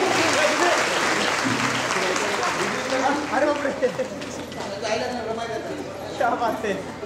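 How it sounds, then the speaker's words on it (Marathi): A crowd applauds loudly for a girl's mother at a performance event, a dense sustained clapping that later becomes sparser while a voice talks over it. "जोरदार टाळ्या होऊन जाऊ द्या तिच्या मम्मीसाठी."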